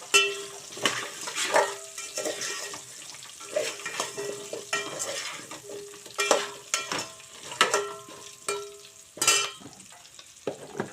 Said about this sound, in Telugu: వీటిని బాగా మగ్గించుకుందామండి.